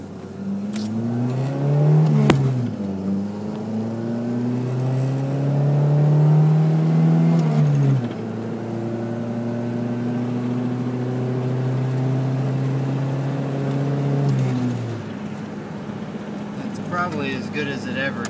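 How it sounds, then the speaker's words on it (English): A 1979 Plymouth Horizon TC3 with a slightly rough idle pulls away from a red light, its engine note climbing through several gear changes in rising and falling sweeps, loud and close from inside, with someone talking over it. "TC3 accelerating."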